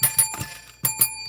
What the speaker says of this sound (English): We're ringing that bell.